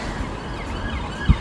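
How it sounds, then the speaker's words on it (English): Ambulance siren passing on a road, a wavering wail heard faintly over traffic rumble, with a brief low thump near the end. "Ambulance!"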